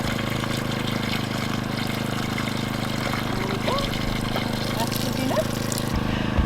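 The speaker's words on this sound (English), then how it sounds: "But that pump's going to fill this up quick as anything." A pump drawing well water runs steadily with a constant droning hum as it fills an IBC tank, while water trickles and splashes underneath and people talk briefly nearby.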